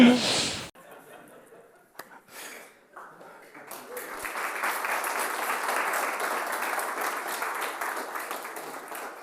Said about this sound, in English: Thank you for applauding me for being a screw-up.